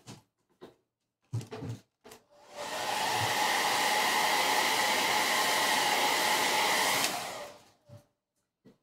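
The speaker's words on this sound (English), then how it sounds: "we'll hit that with the blow dryer" Blow dryer running steadily for about five seconds at close range, drying stencilled paint on a wood picture frame, with brief handling knocks just before it starts and a click as it shuts off.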